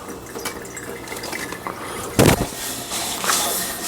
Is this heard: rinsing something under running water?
yes